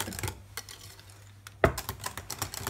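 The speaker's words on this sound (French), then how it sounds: "Et voilà, le 4e œuf. Parfait. Et on mélange. On continue de mélanger." Chocolate fondant batter being mixed by hand after a fourth egg goes in, with irregular light clinks and scraping of a utensil against the bowl, close and fairly quiet with no talk.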